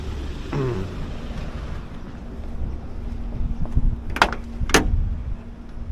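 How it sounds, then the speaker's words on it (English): A classic Fiat 127 door handle is tried and fails to open, giving a few sharp clicks and clunks outdoors over steady wind noise. "Oh, that door's locked."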